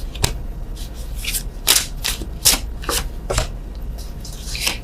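Tarot cards are shuffled by hand nearby, giving sharp papery riffles and flicks at an irregular pace over a steady low background hum, with no voice.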